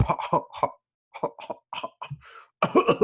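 A voice imitates coughing with a string of short, harsh, close bursts, a brief pause midway, then a louder rough cluster at the end.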